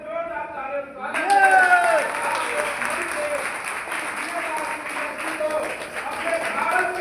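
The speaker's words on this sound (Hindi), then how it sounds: "हम चाहते हैं जोरदार तालियों" A crowd applauds at a political speech in India, the clapping bursting in loudly after a second and holding as a dense, steady roar of many hands, with a voice heard briefly at the start.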